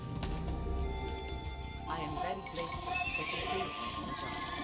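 Horse neighing in the strategy video game Age of Empires 2, a clear whinny rising over game music and effects, with someone talking during the sound.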